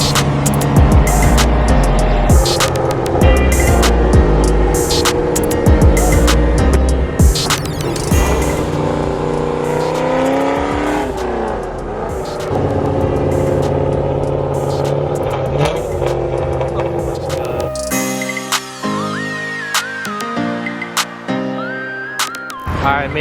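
A Scion FR-S with a swapped V8 LS engine drives, its deep engine note rising and falling through revs and gear changes, loud and close, later joined by tonal music-like sounds near the end.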